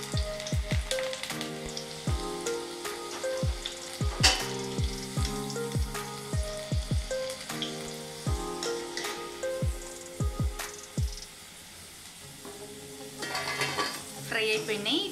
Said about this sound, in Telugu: మనం ఇవి ఇట్లా పకోడీ లాగా వేస్తూ డీప్ ఫ్రై చేసుకుందాం.